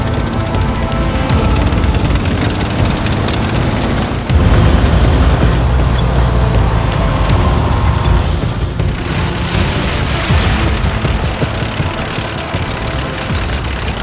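Heavy artillery bombardment in the 1939 German invasion of Poland comes across as loud, continuous low rumbling with deep booms and a sharp jolt partway through, dense and unbroken throughout.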